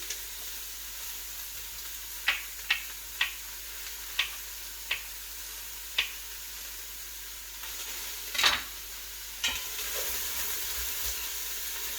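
Mushrooms saute in a pot under a low, even sizzle with no speech. A run of evenly spaced light ticks and clicks sounds over it, then a louder scrape or clatter comes near the end.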